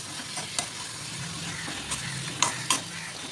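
Tomatoes and onions stirred in a pan, a steady soft sizzle under scraping strokes of a spoon and several sharp clicks of utensil against metal.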